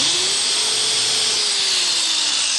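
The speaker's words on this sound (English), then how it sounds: "This old drill gun actually is fitted right now with what's called a countersink, which is a drill bit" An old drill fitted with a countersink bit whines steadily while boring a pilot hole into wood, a continuous high motor tone with a slowly falling pitch and no voices.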